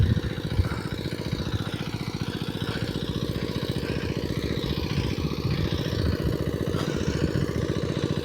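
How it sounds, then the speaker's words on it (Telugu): A diesel oil engine pumps bore water out of a tank in a field, chugging steadily with a rapid even putter at close range, with no talk. "తొట్టి నుంచి ఆయిల్ ఇంజిన్ పెట్టి నీళ్ళు బయటికి వెళ్ళగొడుతున్నాను"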